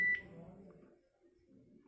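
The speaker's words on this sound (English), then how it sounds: "Then you see beep sound, that means the ring got setting." A Panasonic KX-TG3711 cordless phone gives a single short, pure confirmation beep at the very start, followed by faint low room rumble and quiet handling noise.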